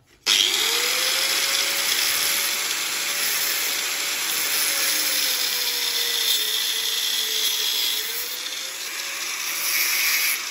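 A power tool whines steadily and loudly up close while cutting a screw down by 2 cm during cabinet installation, its pitch dipping slightly under load, with no talking.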